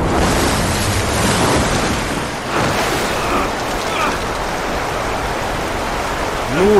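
Flood water rushes as a wave surges through Uncharted 3, a loud, broad roaring wash that swells and ebbs continuously, with brief game sounds mixed in.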